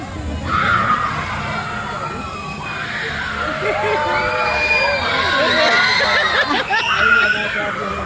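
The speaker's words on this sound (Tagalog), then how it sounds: "Sigaw siya eh." Children scream and shriek on a ride at the Enchanted Kingdom amusement park, rising squeals layered over a busy crowd with laughter and cheering close by.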